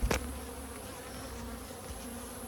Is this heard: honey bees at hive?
yes